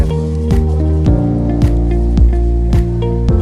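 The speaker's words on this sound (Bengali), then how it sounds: "এখানে তো রসটা ভালো মতো ছেঁকে নেওয়া হচ্ছে" Date palm sap being strained on a winter night gives wet, squishy drips that recur roughly every half second over a steady low hum.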